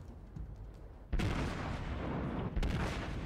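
Heavy warship guns fire in World of Warships, two deep booming salvos a little over a second apart, each a loud close blast with a rumbling tail over a low background drone.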